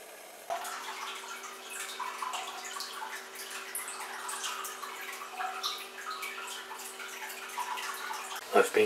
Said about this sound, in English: I've been filling the tank for about an hour and we're about halfway full.